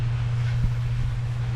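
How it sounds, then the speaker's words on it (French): Wind blowing through a shaded mountain corridor during a bicycle trip across Switzerland, a steady rushing roar with low buffeting against the microphone, constant and close throughout with no talk. "il y a du vent parce que je suis dans un couloir, une sorte de couloir, donc il y a du vent"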